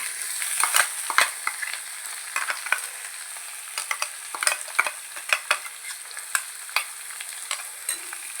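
Crushed onion, bird's eye chili and ginger frying in a pan for a vegetable stir-fry, a soft sizzle under repeated irregular scrapes and clicks of a spatula, no voices.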